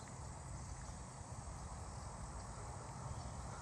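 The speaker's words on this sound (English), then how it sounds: "I hear the cicada starting" A cicada calls from a tree in a neighbourhood. It makes a steady, dense buzzing drone that holds at an even level the whole time, with no voices.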